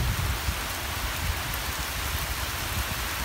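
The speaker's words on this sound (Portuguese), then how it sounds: "essa chuva não é chuva de trovoada" Light rain falls steadily outdoors near a vegetable garden, a dense, even patter on surfaces with no thunder or voices.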